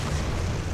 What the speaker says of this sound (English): he shot the blue missiles at me